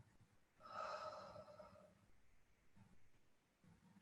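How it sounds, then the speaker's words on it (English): One slow breath let out through the mouth, a soft airy exhale lasting about a second, close and alone, followed by quiet room tone. "Now let it out slowly through your mouth."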